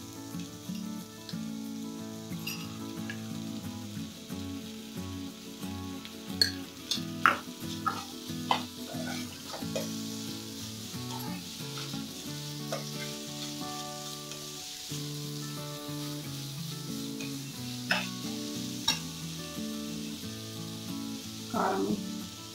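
Onions fry for prawn curry, hissing in a steady, continuous sizzle with occasional scrapes and taps of a stirring spoon against the pan throughout.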